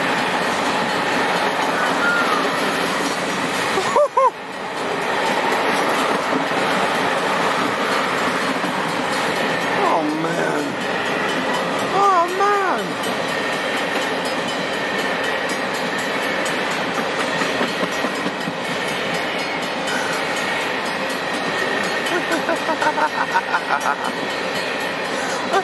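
A train rushes past with a loud, continuous rumble and rhythmic wheel clatter, joined by brief squeals and shouts partway through.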